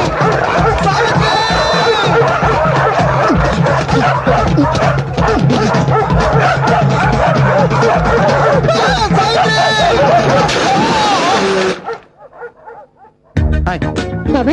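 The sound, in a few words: dogs barking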